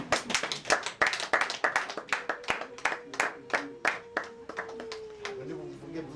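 Guests at a Rwandan wedding ceremony clap together in an uneven burst of applause, loud and close, with a voice talking over the clapping and a faint tone drifting underneath.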